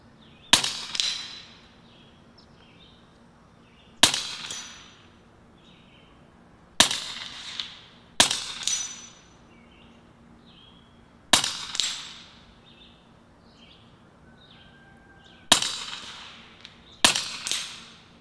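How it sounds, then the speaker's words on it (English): Air rifle shots striking targets outdoors, sharp cracks spaced several seconds apart, some followed quickly by a second impact snap, against a quiet background. "I'm gonna give myself 12 rounds to hit this. So let's reload, top off with air,"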